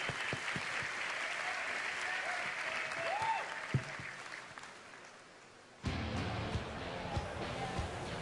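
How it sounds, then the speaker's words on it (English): Audience at a BlizzCon 2011 Diablo 3 Q&A panel breaking into steady applause and cheering that fades out, then a fresh burst of clapping rises again. "Everybody give them a round of applause."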